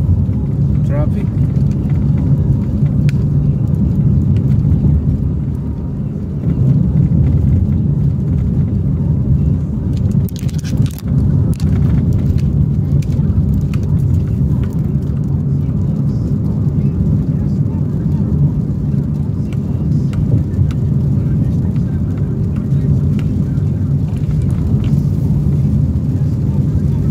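Busy road traffic on National Service Road in Makati, a continuous loud rumble of passing vehicles with engine drone and occasional louder swells, heard close up with a person talking over it.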